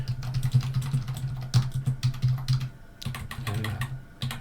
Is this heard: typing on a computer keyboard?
yes